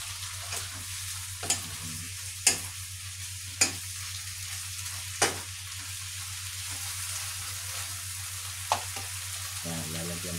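Chicken adobo with tofu and potatoes cooks in a pan with a constant close sizzle. Sharp clacks of a utensil against the pan are scattered through it, and no one speaks.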